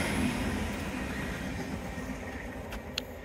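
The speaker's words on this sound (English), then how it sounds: "Oh, and there's a happy train as well." A passing train rumbles steadily and loudly at close range, a continuous low roar with faint rail clatter and a brief sharp tick near the end.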